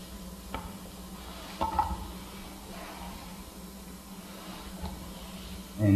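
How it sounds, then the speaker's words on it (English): Mushrooms hit hot vegan butter in a pan and begin frying, a low steady sizzle under a few light clinks and stirring scrapes of utensils against the pan. "so I'm going to go ahead and put in the mushrooms."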